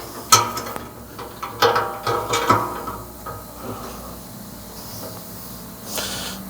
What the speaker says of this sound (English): So let's put the hopper down.